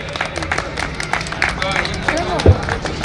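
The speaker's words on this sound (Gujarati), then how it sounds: "વિરલાઓ માટે ખૂબ તાળીઓના ગડગડાટથી વધાવી લઈશું" An audience claps to welcome the organisers at a housing society event, with scattered applause and crowd murmur running under a speaking voice.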